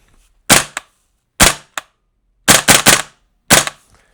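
A VFC KS1 airsoft gun fires sharp, close pops: four single shots spaced about a second apart, some followed by a quick mechanical click, with silence in between.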